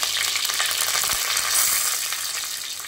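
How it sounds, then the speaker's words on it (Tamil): Oil crackles and sizzles steadily as chopped onions fry, a dense hissing patter with occasional soft stirring knocks underneath. "இப்போ நம்ம பொடியாக நறுக்கின வெங்காயம் சேர்த்துக்கலாம்."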